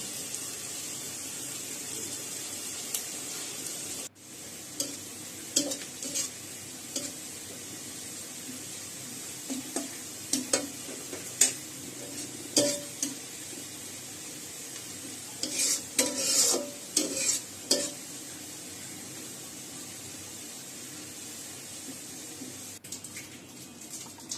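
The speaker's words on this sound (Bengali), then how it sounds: "এবার ওই বেরেস্তা ভাজা তেলে আরও একটু ঘি মিশিয়ে মাংসগুলো ভেজে তুলতে হবে।" Mutton pieces frying in oil left from frying onions, with added ghee, for biryani, a steady close sizzle broken by bursts of stirring and scraping in the pot, with no talk.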